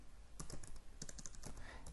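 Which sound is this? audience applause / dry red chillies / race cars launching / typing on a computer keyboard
typing on a computer keyboard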